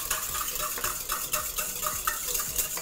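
Vegetable oil being stirred into wet pierogi dough ingredients in a bowl, giving a close, steady run of soft scraping and sloshing strokes with light utensil clinks, with no talking.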